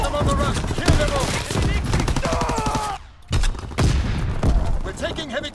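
Rapid, dense machine-gun fire from Call of Duty WWII on the Shipment 1944 map, loud and continuous with a brief pause midway, mixed with shouted voices over the shooting.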